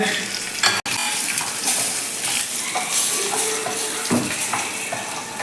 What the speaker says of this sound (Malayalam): നല്ല പോലെ കളർ മാറി വറുക്കുക